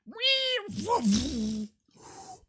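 A cat meows clearly up close, a rising-and-falling vocal cry with bright harmonics, followed by a softer, shorter sound after a brief pause.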